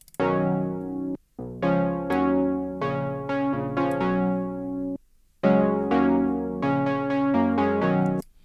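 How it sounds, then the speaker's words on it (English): Warm, sustained synth chords from a TAL-U-NO-LX software synthesizer play in a chill house progression, each chord held about a second with two brief gaps of silence, bright and full, with no voices. "I made these really warm chords on Tal Uno LX,"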